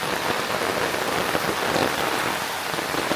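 Steady rain falls in a heavy, even downpour around a kennel in the Malnad hills, a constant dense hiss of drops hitting surfaces with no pauses and no voices.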